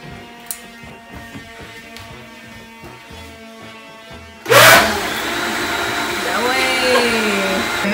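A kitchen blender for sopa de fideo, blending a base seasoned with salt and oregano, switches on partway through and runs loud and steady to the end. Before it starts there is a quieter stretch with light kitchen knocks.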